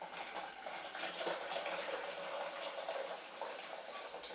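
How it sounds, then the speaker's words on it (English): Hot water pours steadily into a container while ginger kombucha is being made, a continuous soft splashing and trickling that lasts about four seconds, close and moderately quiet. "And then I just add some more of my hot water"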